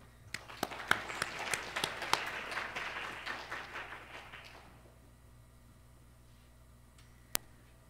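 A UCLA lecture audience claps to welcome speaker Nathalie Lawhead, a few seconds of scattered, moderately sized applause that thins out and stops, followed by a quiet room and one sharp tap.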